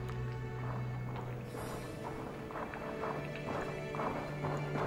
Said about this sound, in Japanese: しっ、聞きな、足音だ。